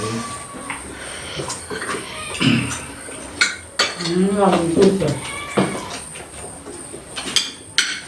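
Chili being cut at a family dining table, with knife and cutlery clinks against dishes scattered through the clip, close and moderately loud, mixed with people talking in the background.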